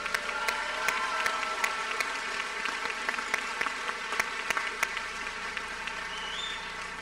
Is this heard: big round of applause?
yes